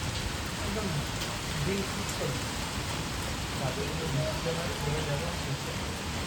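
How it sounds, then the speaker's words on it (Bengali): Rain starts falling near a beach resort in Tajpur on an evening, a dense, even hiss of drops on surfaces, with faint voices murmuring underneath. "তো এখন বৃষ্টি শুরু হয়ে গেছে।"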